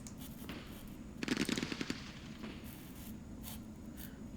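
Rapid burst of gunfire from a Middle East war strategy game, Campaign Series Middle East: a quick string of sharp shots cluster mid-clip over a low, steady background, with a few fainter isolated shots afterward.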